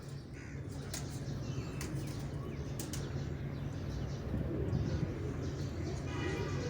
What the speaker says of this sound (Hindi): ये ऊपर आपको नज़र आए 3 कबूतर आए हुए हैं।